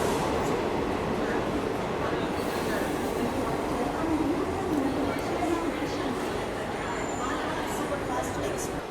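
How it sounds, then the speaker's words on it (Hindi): A Jhansi–Pune special passenger train of blue ICF coaches hauled by a WAG-9HC electric locomotive rolls into a station, giving a steady, loud rumble of wheels and rail noise throughout. Voices can be heard over it. "Jhansi Pune special train enter कर रही है WG9HC लोकोमोटिव के साथ।"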